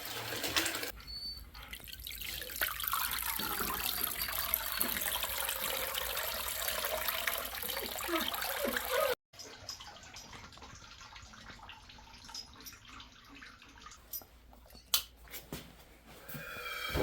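Maple sap poured through tea towels into a big stainless steel colander, a steady close trickling pour that stops midway, then sparse drips and small clinks follow.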